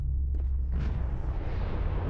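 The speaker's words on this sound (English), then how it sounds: "Just explosion after explosion on these generators" Generators exploding in the Dead by Daylight video game during a Halloween Lampkin Lane match, a dense, continuous low booming rumble with a sharper burst early on, loud and sustained with no talk over it.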